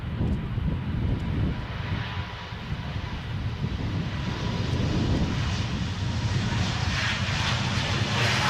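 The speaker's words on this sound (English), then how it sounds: "There's the distant sound of those engines on the Embraer powering up." Embraer jet engines powering up at Edinburgh airport come through as a distant, sustained roar that swells and fades slightly, mixed with gusty wind buffeting the microphone.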